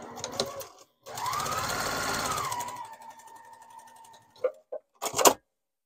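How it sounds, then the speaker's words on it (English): A domestic sewing machine runs a straight line of stitching across a receiving blanket, whirring steadily for about two seconds and then slowing, followed by a few short clicks and bursts as it stops. "And then I am going to stitch right along that line."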